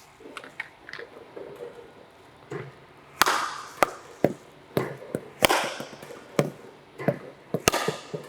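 A table tennis ball is struck with a paddle in a spin demonstration, giving sharp, isolated clicks and taps at an irregular pace, some faint and some loud, close by in a quiet room.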